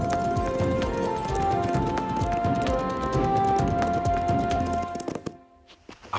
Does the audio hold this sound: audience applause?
no